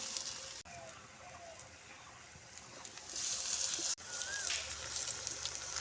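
Gram flour bok flower fritters frying in hot oil give a soft, steady sizzle and crackle, with brief swells of bubbling hiss and a few quiet kitchen clicks.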